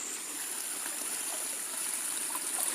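A small stream runs through a rubber plantation forest, giving a steady, close hiss of flowing water with faint trickles and no voices.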